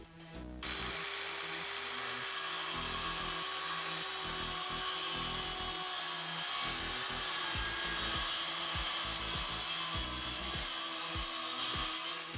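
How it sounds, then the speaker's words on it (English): A power tool trims the sides of a live edge timber slab to a clean, parallel edge, a loud continuous grinding whine with rhythmic pulsing as the cut moves along the wood. "here I'm just taking the sides back to a nice clean edge, and I cut them parallel to each other"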